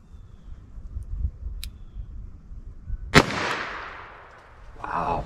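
A single sharp gunshot from a .38 Special +P revolver with a 4-inch barrel firing Federal HST ammunition cracks out once, loud and close, over faint background rumble, trailing off in a brief echo.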